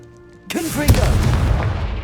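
A Confringo fire spell blast in Hogwarts Legacy bursts in loudly after a quiet lead-in, with a whooshing, warbling rise, a sharp impact, and a rumbling tail.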